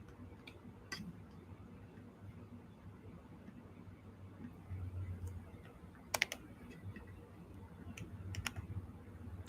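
Typing on a computer keyboard, a steady patter of soft clicks with a few sharper key strikes, close and fairly quiet, no talking.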